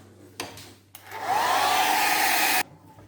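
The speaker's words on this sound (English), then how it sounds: "I'm going to actually use the hairdryer." A hair dryer starts up close by and blows with a loud, steady whoosh and whine for over a second before cutting off abruptly.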